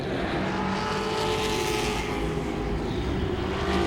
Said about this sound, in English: cars going away, smoking up a storm as the 11 of Tommy Sweeney goes by